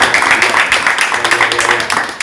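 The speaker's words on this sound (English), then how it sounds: "give him a round of applause" An audience giving a round of applause, dense steady clapping throughout, loud and close, with voices mixed in.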